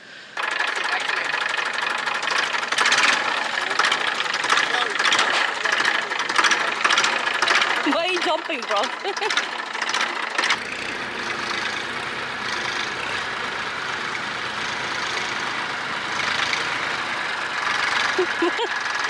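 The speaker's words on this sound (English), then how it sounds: "First time I'm riding a tractor and I'm very excited." A tractor engine chugs and rattles continuously at close range in Trincomalee, Sri Lanka, loud and steady throughout, while a person speaks briefly over it.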